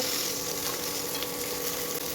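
Fish heads fry in hot oil with a steady, dense sizzle and crackle, close and continuous, and no voices over it.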